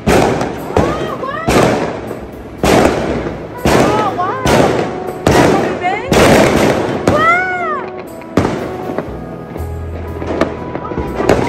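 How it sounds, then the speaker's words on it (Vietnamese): Fireworks bursting during Tết in rural Quảng Trị, Vietnam: a rapid series of loud, close cracks and booms with whistling rockets rising between blasts, continuing for several seconds. "các bạn đã được xem bắn pháo bông ở Quảng Trị rồi đó"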